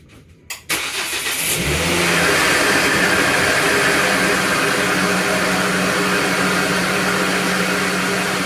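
A 2009 Volvo C70 T5 engine cranks briefly, catches and settles into a loud, steady idle, running close by and alone with no talking.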